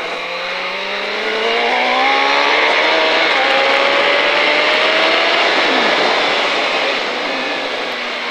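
A 2005 KTM Superduke motorcycle accelerates hard on a race track, its loud engine note climbing steadily in pitch through a long pull, then fading slightly as it passes.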